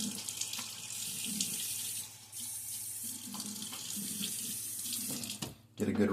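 Water runs steadily from a sink tap while shaving gear, a Gillette Nacet blade in a Timeless 68 open-comb razor, is rinsed under it, a continuous close splashing with brief breaks near the end.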